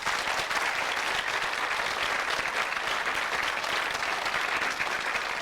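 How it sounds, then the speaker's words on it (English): Studio audience at a 1991 television game show applauding contestants, a steady, even wash of clapping continuing without a break. "And a round of applause for the losers, please."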